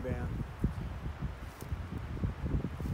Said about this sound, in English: Kind of windy today out of the northwest.